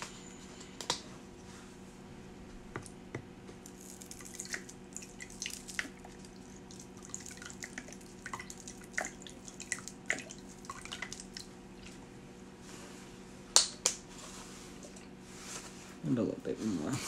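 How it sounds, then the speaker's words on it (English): Liquid smoke is poured in as a series of small, scattered drips and splashes, some sharper than others, over quiet background talk, with a louder splash near the end. "And I'm going to put some liquid smoke in it."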